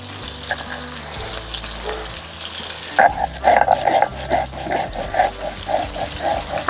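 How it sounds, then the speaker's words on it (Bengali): Pieces of katla fish fry in a pan in a village kitchen, giving a steady background sizzle that is later joined by loud, rhythmic scraping strokes close by. "এদিকে মাছ ভাজা হচ্ছে"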